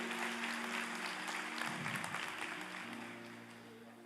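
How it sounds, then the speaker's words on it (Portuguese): A church congregation applauds in a steady, full wash of clapping over a sustained low musical tone, fading gradually toward the end. "Aplauda, pode aplaudir, que é para Ele."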